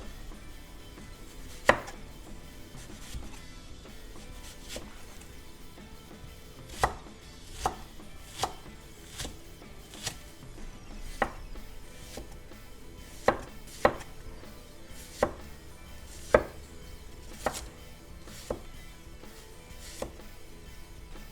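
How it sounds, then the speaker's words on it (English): A knife on a cutting board chops onion and celery into big pieces. The chops are sharp and distinct and come irregularly at a moderate pace, with quiet handling between them. "And now with the onion, we want really big pieces"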